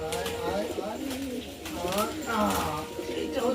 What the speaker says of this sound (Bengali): এখানে দুটো কালাঙ্কা পায়রা আছে